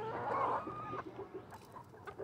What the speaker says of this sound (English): We picked out four really beautiful hens.